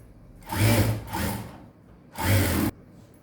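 An electric sewing machine stitching a blouse hem runs in three close bursts of rapid whirring, two short runs followed by a pause and then a third, with quiet gaps between them.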